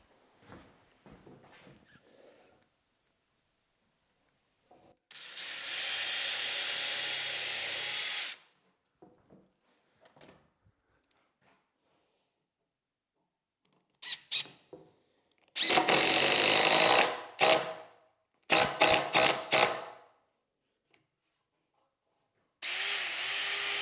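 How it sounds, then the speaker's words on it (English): A power drill pre-drills and drives screws into wooden seat boards of a beginner woodworking bench. It comes as several loud bursts of whirring, one long run and then a cluster of short stop-start pulses, with quiet pauses and small handling knocks between them. "I'm just gonna pre-drill and then screw them."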